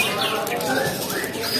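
At a bird contest, a competition songbird gives varied chirps and sweeping whistled calls, close and fairly loud, against a busy background of other birds and crowd noise.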